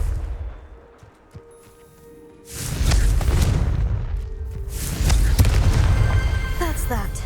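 A Confringo spell in Hogwarts Legacy goes off as two heavy, booming explosive bursts with rumbling tails, the first after a quieter stretch and the second a couple of seconds later.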